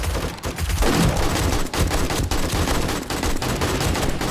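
Continuous gunfire in the game 7 Days to Die: rapid, dense, loud shots rattle without pause, sounding like automatic fire, with no talk over it.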